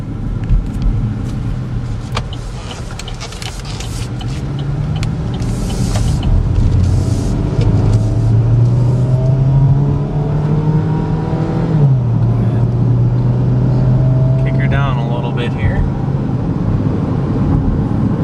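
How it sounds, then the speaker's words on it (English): A 2013 Chevy Equinox cruising at highway speed, heard from inside the cabin as a steady loud engine and road drone with slow pitch shifts and a dip around the middle, continuous throughout. "We're still going straight down the center of the road. That's highway speeds."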